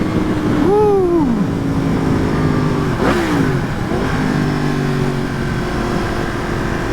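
A Yamaha FZ-10 motorcycle engine revs and accelerates, rising and falling pitch sweeps as the rider works the throttle, close and fairly loud over road and wind noise, with no talk.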